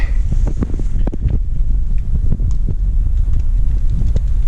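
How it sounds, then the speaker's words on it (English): Loud, constant wind buffets the microphone on the coast near Runswick Bay, a heavy low rumble with gusty thumps throughout and no speech. "It's windy down here as well"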